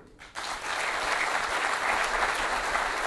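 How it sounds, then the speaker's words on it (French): An audience claps after speeches at a formal ceremony. After a brief quiet moment the applause swells in abruptly and holds as a dense, steady crowd clapping. "Après ces discours très applaudis par l'auditoire"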